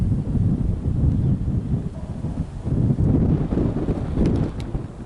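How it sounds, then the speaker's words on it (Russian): Gusts of wind blow hard over a river among rocky cliffs in the Ural mountains, a loud, rough buffeting that swells and eases in waves and batters the microphone, with no voices. "Ветер еще. Опять ничего не слышно."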